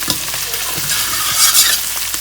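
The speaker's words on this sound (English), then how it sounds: "Let's stir it all in." Lamb keema with spices sizzles loudly in a hot pan while a spoon stirs it in short scraping strokes, close and with no talking.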